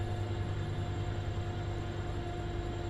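Steady rumble of a train in Train Sim World 5 on the San Bernardino line, with a low drone and held tones, continuous and fairly loud with no talking.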